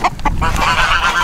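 A few loud, close honks from geese, brief and overlapping in quick succession.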